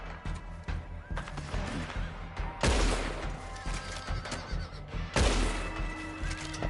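Gunfire in Red Dead Redemption 2 Online, with two loud broadband blasts standing out over a busy game mix of horse whinnies and hoofbeats, plus sporadic smaller cracks throughout.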